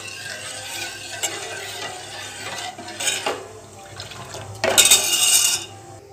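Milk heating in a pot is stirred with a spoon, giving soft scraping and liquid swishing with a few light clinks against the metal rim, plus a louder burst of stirring near the end; no one speaks.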